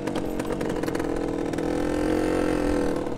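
A 1974 Suzuki RV125 sand bike's small two-stroke motorcycle engine runs close by, buzzing steadily with a rising rev toward the end.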